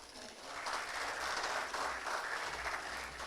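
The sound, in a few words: audience applause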